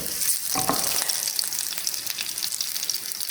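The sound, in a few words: green chilli sizzling as it fries in hot oil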